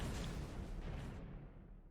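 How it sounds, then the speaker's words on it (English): Missiles blasting against unshielded ship armor in the space game StarMade, a loud rumbling explosion with a heavy low boom that rolls and slowly fades. "Oh, missiles are getting hit."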